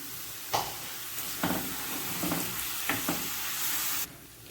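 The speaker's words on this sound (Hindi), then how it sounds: "तो थोड़ा सा हम पानी डालेंगे।" Water goes into a pan of keema spiced with cumin powder and red chili, and a spoon stirs it. A steady sizzle carries a few sharp scraping strokes, then the sizzle drops off abruptly near the end.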